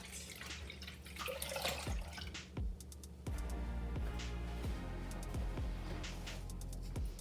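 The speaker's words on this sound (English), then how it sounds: "So I'm just going to pour them in this big pot." Water and milk pour into a big pot for breakfast rice porridge, a steady close stream with hollow glugging drips that bubble and shift in pitch as the pot fills, with no talk.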